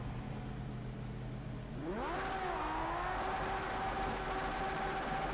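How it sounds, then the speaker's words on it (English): Damaged race car engine in Project Cars 2 holding a low drone, then revving sharply upward and settling into a strained, gritty whine, loud and continuous with no talk. "that is not a good noise for this engine to make."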